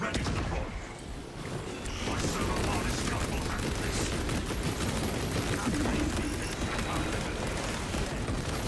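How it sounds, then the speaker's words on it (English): Rapid gunfire from piercing bullets in the video game Space Marine 2, a dense, sustained barrage of shots and impacts filling the whole stretch with little pause, with a voice faintly mixed in. "Honestly, piercing bullets are crazy."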